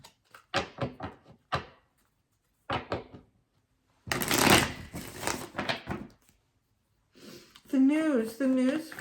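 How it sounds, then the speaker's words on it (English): Tarot cards being pre-shuffled by hand, giving short papery riffling bursts between stretches of a person talking, fairly close and moderate in level. "Let's give it a pre-shuffle."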